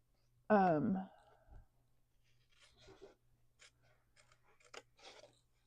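Scissors snip through paper in a series of light, close cuts and clicks during a craft demonstration, following a brief spoken phrase.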